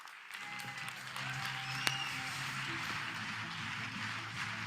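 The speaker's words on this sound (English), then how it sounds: "let's give a big round of applause for each and every one of you" Audience applause for speakers at a general session, a steady, moderately distant wash of clapping with a single sharp clap standing out near the middle.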